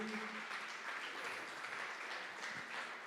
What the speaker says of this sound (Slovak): Toto je celý tím za neutíchajúceho potlesku, sprevádzaný na pódium